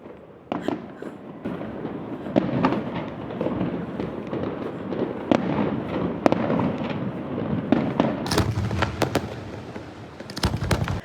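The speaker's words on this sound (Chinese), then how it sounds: "真的有烟火秀哎！" Fireworks burst repeatedly in the distance over a Sydney park on a rainy night, irregular booms and crackles rolling one after another, with sharper pops near the end.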